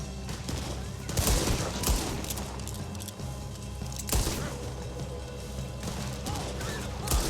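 Gunfire in the Red Dead Redemption 2 video game, a few loud bursts of shots spread across the scene over a busy game soundtrack, with brief shouting.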